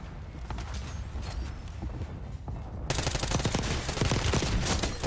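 Gunfire in Black Ops 6 Warzone while using one-shot sniper rifles: sporadic shots at first, then a sudden dense run of rapid, loud firing through the second half.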